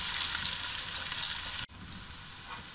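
Chopped onion and capsicum fry in a pan, giving off a bright, steady hiss that drops abruptly about two thirds of the way through, then goes on sizzling more softly.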